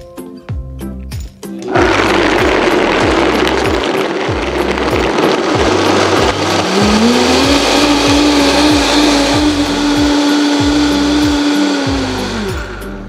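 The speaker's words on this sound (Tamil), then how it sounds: "இதை வந்து ஹை ஸ்பீட் பிளெண்டரில் 1 நிமிஷம் நல்லா ஹை ஸ்பீடில் வச்சு நல்லா அரைச்சி எடுத்துக்கணும்" A high-speed blender grinds soaked almonds for almond milk. After a few clunks it roars to life, loud and close, with a rhythmic chopping pulse, and its pitch rises midway as the mixture smooths out.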